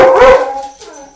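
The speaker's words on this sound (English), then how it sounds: "Dogs are going crazy." A dog barks once loudly and close, a short sharp bark trailing off into a fading yelp.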